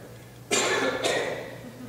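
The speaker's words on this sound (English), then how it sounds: "I'm going to cough, and I hope this works." Two sharp coughs close up, about half a second apart, the second slightly softer.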